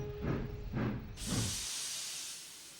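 Gordon, a Thomas & Friends TOMY toy steam engine, gives three rhythmic chuffs in a row, then a long, soft release of steam hiss that slowly fades, heard alone and at close range.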